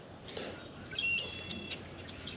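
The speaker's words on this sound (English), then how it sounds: "Whenever I hear those birds that make that noise, I know we're getting close to good fishing." Birds near a crappie fishing spot give faint, thin chirping calls in a few short bursts, distant and soft over a low outdoor background hum.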